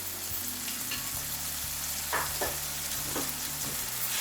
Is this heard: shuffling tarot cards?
no